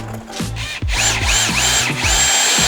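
A cordless power drill whirs loudly in short repeated bursts as it drives a bit, its motor pitch rising and falling with each trigger pull, close and alone.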